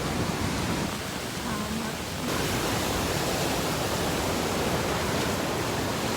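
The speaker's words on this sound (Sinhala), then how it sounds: "වතුර හොඳටම වැඩි වෙලා තියෙන්නේ." Floodwater rushing through a swollen village river in Sri Lanka after heavy rain, a steady broadband roar that fills the whole clip without letting up.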